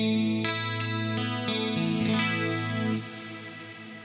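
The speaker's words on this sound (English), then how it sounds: "In scene 2, I have a chorus clean sort of thing going on, and sometimes I have this long reverb on" Clean electric guitar tone through an Axe-Fx II with chorus and a long reverb, sustained chords shimmering and ringing out into a fading tail, played alone.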